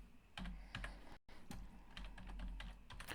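Quick bursts of keystrokes on a computer keyboard while a command is entered, close, crisp clicks in short irregular runs with a brief pause partway through, no talking.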